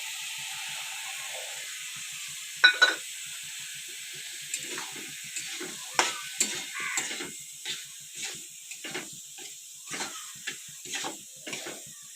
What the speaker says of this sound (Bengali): এখন আমি সর্ষে বাটাটা দিয়ে দিচ্ছি